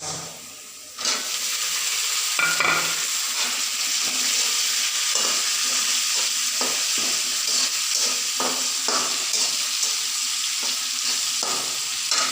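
Onions frying in coconut oil in a pan, a loud continuous sizzle with repeated scraping stirs of a spoon against the metal, close and steady without talk.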